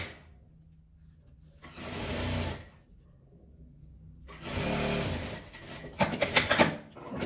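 A sewing machine stitches denim and cotton fabric in two bursts of rapid mechanical whirring, the second longer and ending in quick stuttering stitches, quiet and close with pauses between.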